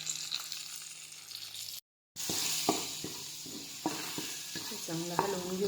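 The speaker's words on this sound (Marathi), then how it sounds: "चांगला हलवून घेऊया" Coriander powder, turmeric and raw masala sizzle steadily in a pan while being stirred, with a brief dropout and then scraping, clinking strokes over the continuous hiss, close up and without speech.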